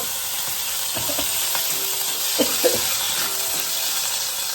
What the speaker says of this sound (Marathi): कढईत फोडणी दिली ना, खूपच उडते फोडणी.